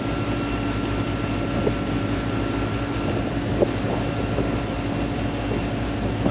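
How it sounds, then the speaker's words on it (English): Supercharged boat engines whine in the background over a constant loud roar of wind and engine noise on choppy water, steady with no pauses. "whining in the background is the superchargers"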